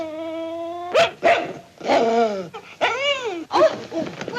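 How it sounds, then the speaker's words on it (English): A dog barks and yips in several sharp, loud bursts close by, following a brief whine. "She never growls at any of our friends."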